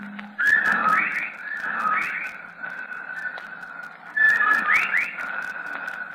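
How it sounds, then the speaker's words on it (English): Whippoorwills give a repeated, rhythmic whistled call that rises and falls in phrases, recurring with short pauses against a quiet, faint background. "of whippoorwills cried loudly and rhythmically, endlessly"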